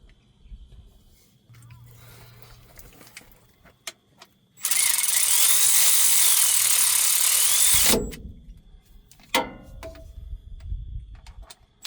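A power tool runs in one loud, steady whir lasting a few seconds while bolts are snugged down on a Cummins 5.9 24-valve common-rail engine. Softer clanks and mechanical noises come before and after it outdoors.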